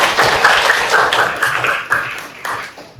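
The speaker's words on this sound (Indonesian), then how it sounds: "tepuk tangan buat kelompok 3" A classroom group applauding at the close of a presentation, with scattered, uneven hand claps from a modest crowd lasting a few seconds.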